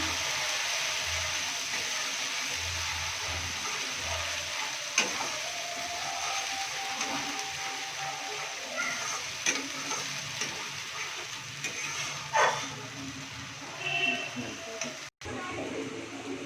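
Onions sizzle and fry steadily in a pan for egg curry, a continuous soft crackle with a few stirring clicks and scrapes along the way.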